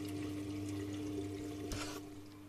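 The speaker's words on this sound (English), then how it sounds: "water shoots up the tube" Water rushing steadily through the tube of a homemade gravity-fed auto top-off system, a continuous close pouring and gurgling flow with a brief louder splash near the end before it eases slightly.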